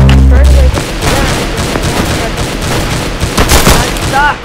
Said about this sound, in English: So I shot the shotgun.